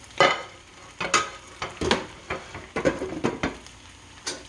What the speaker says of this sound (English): is mix our rice-a-roni with our stewed meat mix